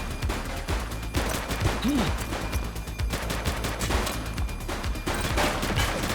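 Sustained gunfire from a police shootout in the game The Precinct, dense rapid shots and bursts rattling steadily for several seconds, loud and close with no talking over it.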